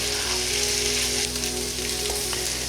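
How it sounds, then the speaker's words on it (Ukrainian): Onions fry in a pan with a dense, steady, close crackling sizzle that runs without pause, and no one talks. "І тепер я буду обсмажувати до золотистості цибулі, до такого трохи карамельного кольору."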